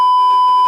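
A loud, steady censor beep, a pure electronic tone lasting the whole brief moment, with a faint murmur of sound beneath its latter half.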